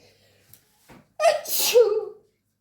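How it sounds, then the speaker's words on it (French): A single close, loud sneeze in a home kitchen during baking, preceded by a couple of short intakes of breath. "Et oui, j'éternue toujours."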